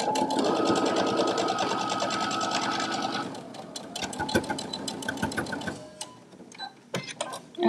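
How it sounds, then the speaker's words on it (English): A sewing machine runs in close, loud, rapid bursts while back stitching on a Sew Together Bag, with short pauses and a brief change of rhythm near the end. "I am back stitching at the beginning and end of each of these stitches"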